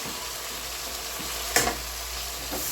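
Tomatoes sizzle in a pan with garlic, a steady crackling fry broken by a single brief clatter.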